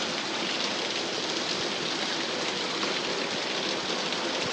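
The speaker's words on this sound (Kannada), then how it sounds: "ಇವಾಗ ಮಳೆ ಬರ್ತದೆ." Heavy rain pours steadily at a homestay in Chikmagalur, a dense, even roar of falling water that continues without pause and without voices.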